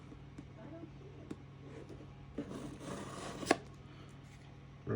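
A knife slicing through tape on a Beyblade X pack, close scraping and cutting strokes with a few sharp clicks and rustles, the loudest slash about two-thirds through.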